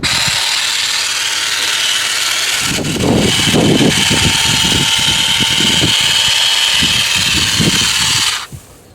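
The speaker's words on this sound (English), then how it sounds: "we're going to go ahead and trim them using the shrubber" An EVEAGE light-duty cordless hedge trimmer cuts overgrown weeds beside a central AC unit. The motor whirs steadily, and rough, choppy cutting bursts begin about a third of the way in before the motor cuts off abruptly near the end.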